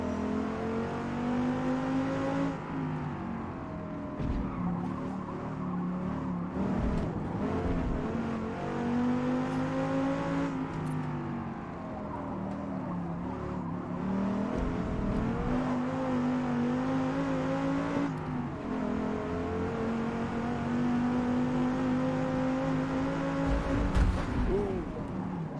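A race car in a racing video game powers around the Nordschleife, its engine droning loud and steady with rising and falling revs through gear changes, running continuously throughout.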